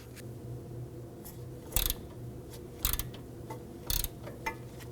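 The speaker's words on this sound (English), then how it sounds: "Now I'm going to use a 17mm socket on my ratchet." A ratchet with a 17mm socket works on a nut on a 2005-2009 Subaru Legacy, giving faint close clicking and three short sharp metallic snaps spaced about a second apart, with no talk.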